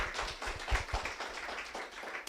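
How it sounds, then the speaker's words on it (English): Audience at a women's financial empowerment event applauding, a short burst of scattered clapping heard fairly faint and distant in the room. "I think she deserves another round of applause"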